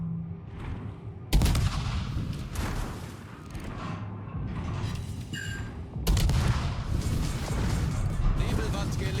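Warship guns firing in a naval combat video game, several heavy booming salvos with rumbling tails, loud bursts near the start and again later, mixed with game effects and a voice speaking over parts.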